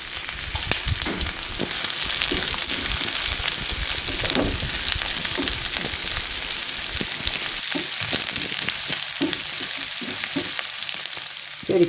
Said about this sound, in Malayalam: വെളുത്തുള്ളി ഇട്ടു. ഇഞ്ചി അരിഞ്ഞത്,